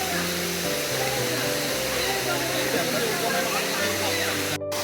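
The Munjuluru waterfall roars as a loud, constant broadband rush of falling water close by, with muffled voices faintly mixed underneath.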